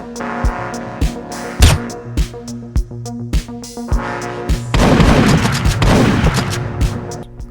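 Repeated gunshots from Hotline Miami, the top-down video game, fired through walls: sharp punchy bangs in an uneven rhythm over a pulsing synth music track, then a dense rattling burst of rapid fire near the end.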